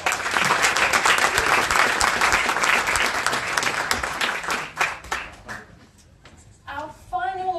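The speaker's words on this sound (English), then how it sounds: "We give him a very big round of applause." An audience at an HSC distinguished achievers awards ceremony in Sydney applauds an award recipient, a loud sustained burst of clapping that fades out after about five seconds, followed by a presenter beginning to speak.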